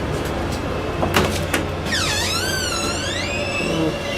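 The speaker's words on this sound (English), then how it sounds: "Little creaky door." An old door creaks open with a wavering, rising and falling squeal lasting about two seconds, preceded by a few sharp clicks, all over a steady rumbling background.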